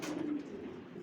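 Pigeon cooing inside a breeding stud loft, a single short low coo close by over faint room ambience.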